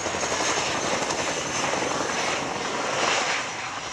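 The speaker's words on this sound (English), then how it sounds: "The aircraft will rapidly slow down and the wheels will touch the ground at approximately 60 knots." An aircraft landing at the RIAT airshow at Fairford produces a loud, steady roar of engine noise that dominates throughout, easing slightly near the end.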